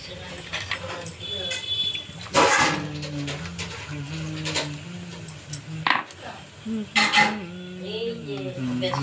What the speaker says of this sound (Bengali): তো হয়ে গেল, এবার বাটিতে তুলে দিচ্ছে